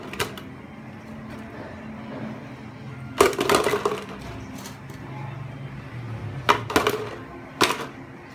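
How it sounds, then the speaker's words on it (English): Ice being put into a jar, with several sharp clattering cracks and clinks in short bursts, near and fairly loud, between quieter stretches of low background noise. "we need to put some ice into that jar"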